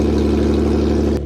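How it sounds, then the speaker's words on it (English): A car engine idling loud and close after its catalytic converter was stolen, leaving a straight-pipe exhaust, with a deep, rough, pulsing drone that holds steady before cutting down near the end. "Somebody hooked me up and did that straight pipe exhaust for me in the parking lot."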